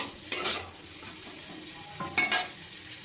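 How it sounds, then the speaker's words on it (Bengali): Onions and capsicum stir-fried with salt for restaurant-style dry chilli chicken: a low sizzle with two bursts of spatula scraping against the pan, close up and without speech. "এবার নুন দিয়ে এগুলোকে ভালো করে আমি ভেজে নেব।"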